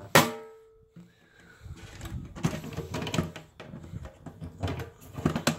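An aluminum motorcycle pannier lid for a 2015 BMW R1200 is handled and shut: a sharp metallic clack at the start, then rattling, knocking and clunking of the case, close and fairly loud.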